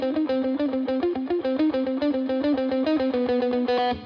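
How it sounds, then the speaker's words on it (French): Overdriven electric guitar played through reverb and delay in a home-studio metal session, a quick rhythmic run of picked notes and chords repeating steadily, close and loud with no talking. "on va se rééquiper de la guitare, et surtout, je vais aller peaufiner un petit son, reverb, délai, petit drive, etc."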